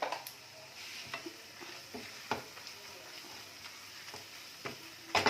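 Mutton keema with masala sautéing in a pan, a soft continuous sizzle broken by intermittent scraping and clicking of a spoon against the metal.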